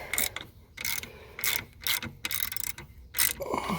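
A ratchet clicks in quick, repeated bursts of strokes while tightening the alternator belt on a 2000 Subaru Legacy, each pull giving a dense run of metallic clicks with short pauses between.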